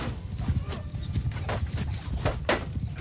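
Cavalry horses gallop in battle in the video game Mount & Blade 2: Bannerlord, a dense, continuous drumming of many hoofbeats with sharper individual strikes, steady and moderately loud throughout.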